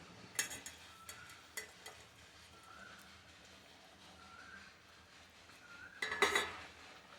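A spoon scrapes and clinks against a cooking pot while mint and coriander are stirred into vegetable biryani. The contact sounds are faint and sporadic, with a slightly busier clatter near the end and no talking.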